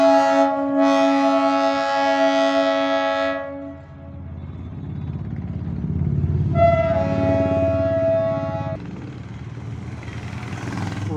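Darjeeling Himalayan Railway diesel locomotive, the first diesel engine returning toward Darjeeling, sounds a long loud horn, then its engine rumbles past nearby before a second horn blast rings out over continued running noise.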